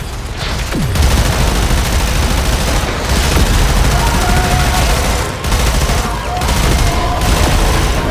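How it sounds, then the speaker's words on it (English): Rapid grenade launcher fire and explosions in the game Warframe, a loud, dense barrage of booming blasts and bursts running almost continuously, with a few brief dips between volleys. "You just stand up on a hill and plaster the region with grenades."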